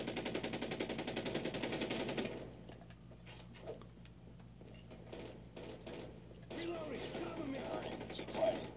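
Rapid automatic RPD machine-gun fire in Call of Duty Mobile, a loud dense burst for the first two seconds, then sparse distant shots and game noise before another rattling volley near the end.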